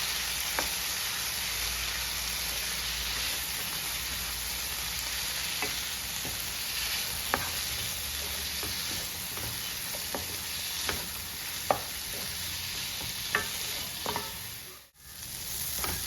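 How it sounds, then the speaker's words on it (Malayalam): Jackfruit seed masala roast being stirred in a pan to dry it out, a steady soft sizzle of frying with intermittent scrapes and clicks of the spoon, close and continuous with no talk. "അതുവരെ നമുക്കൊന്ന് ഇളക്കി കൊടുത്ത് അതൊന്ന് ഡ്രൈ ആക്കി എടുക്കാം."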